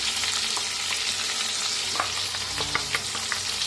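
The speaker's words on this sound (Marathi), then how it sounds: "आता जो मसाला आपण वाटून घेतला होता ते पूर्ण भांड्यात हे करूया, भाजून घ्यायचा आहे" Freshly ground masala roasts in a pot with fried cumin as part of an egg masala recipe. A dense, steady sizzle and crackle runs throughout, with a few soft scrapes of stirring and no voices.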